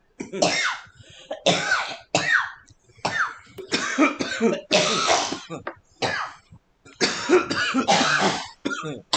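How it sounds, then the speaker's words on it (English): Harsh, repeated coughing from a video game character smoking, in rapid bursts with short gasps between them, loud and close, going on for several seconds. "I can't smoke without coughing."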